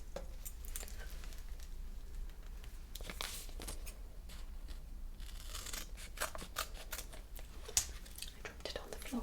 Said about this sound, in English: And then I take another bit with my scissors here.